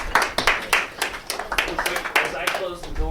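A small group claps in a quick, uneven burst of hand claps, fairly close and mixed with chatter and voices talking throughout.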